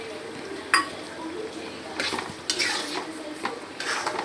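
A masala frying in a pan is stirred with a utensil, giving repeated scraping clinks against the metal over a steady sizzle, close and moderately loud.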